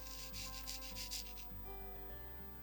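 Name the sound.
rubbing embossing powder onto a card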